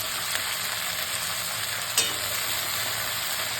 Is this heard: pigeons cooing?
no